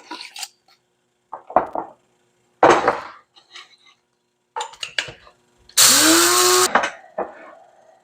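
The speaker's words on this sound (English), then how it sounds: "I'm going to put some chia seed and flax seed in my coffee grinder." A coffee grinder whirs chia and flax seeds in one loud burst of about a second, its pitch rising as it spins up, after scattered clinks and knocks of kitchen handling.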